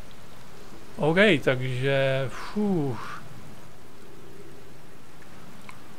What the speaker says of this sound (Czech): Prší tu. Dost tu prší.